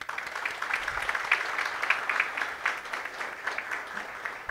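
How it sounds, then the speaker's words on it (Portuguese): An audience at a solemn council session claps for honourees, a moderate round of hand clapping with irregular sharp claps throughout. "Uma salva de palmas para vocês"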